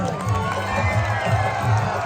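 Loud crowd at a Hindi film event for the movie Doli Leke Aja, cheering and shouting continuously with a dense, steady roar and voices mixed in.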